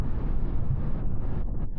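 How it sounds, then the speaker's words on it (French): Steady broadband wind roar buffets the cabin of a 2026 Toyota Aygo X cruising at 120 km/h, a dense, continuous rushing noise from outside with no voices. "Au 120, vous commencez à entendre un peu de vent venant de l'extérieur."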